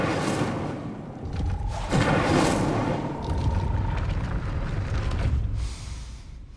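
A fire spell is cast in the PS5 game Hogwarts Legacy: a deep whooshing burst swells into a sustained rumbling roar with a faint tonal hum, then fades out.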